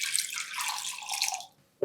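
Tap water runs into a bowl, a bright splashing stream for about a second and a half, then stops before a short final splash.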